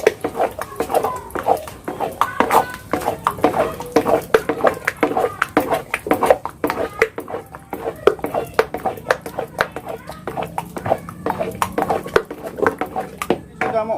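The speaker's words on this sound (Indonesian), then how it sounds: "Jadi ini mau sering mengaduknya saudara, jadi tidak boleh berhenti" Srikaya custard stirred steadily in a pan, with a utensil clinking and scraping against the metal in quick, repeated strokes throughout, close and fairly loud, while a voice talks over it.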